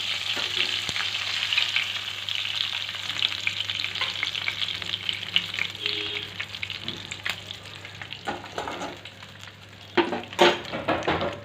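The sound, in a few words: prawns frying in pan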